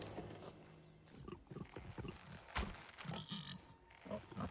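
A pig grunts several times in the fantasy video game Of Ash and Steel, close and fairly loud over a busy, low game ambience.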